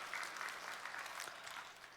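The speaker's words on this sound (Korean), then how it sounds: "우리 영광 받으신 주님께 감사의 박수" Church congregation clapping during a Sunday worship service, a steady wash of many hands applauding together at a moderate distance, continuous with no speech over it.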